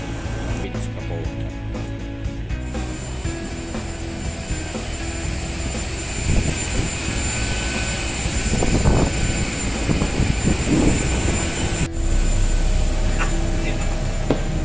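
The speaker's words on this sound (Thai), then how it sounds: "แล้วก็แท็กซี่มายังหลุมจอดที่ ประเทศสิงคโปร์นะครับ" An airliner taxis to its parking stand after landing in Singapore, a loud steady engine roar with a whine that holds throughout, heard from inside the cabin with some faint voices.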